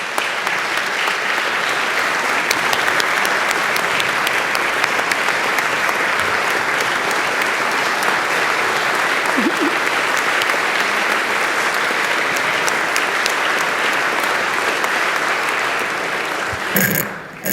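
Sustained applause from an audience at a farewell address, steady dense clapping filling the room from start to finish with no speech over it.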